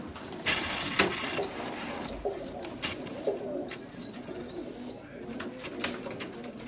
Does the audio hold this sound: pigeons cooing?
yes